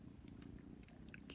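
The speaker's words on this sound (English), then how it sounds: "can you hear his purr? It's like so loud." A cat purring close to the microphone, a low steady rumbling throb with faint small clicks and rustles on top.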